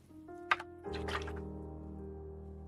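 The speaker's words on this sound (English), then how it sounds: "And I'm rinsing my brush." A paintbrush is swished in a small pot of water, giving a quick splashy tap followed by a soft liquid swirl. It is faint and close, with no talking.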